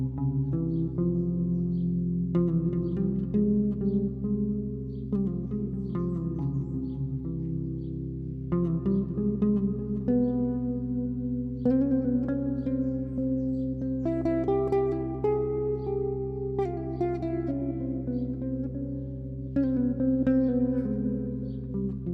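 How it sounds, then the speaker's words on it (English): Synth melody in the C double harmonic major scale over a sustained C drone, notes stepping through the scale one after another with echo and reverb, steady and loud, no talking. "The first mode is the double harmonic major scale."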